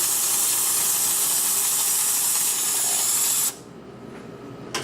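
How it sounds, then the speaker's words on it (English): An espresso machine's steam wand being purged during barista training blasts a loud, steady hiss for about three and a half seconds, then cuts off abruptly, leaving a faint residual hiss and a small click at the end. "So I was blowing out my steam wands."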